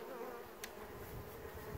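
Honey bees buzzing around the frames of a nucleus colony being moved into a ten-frame box, a soft, steady hum of many insects close by with one brief sharper buzz passing near.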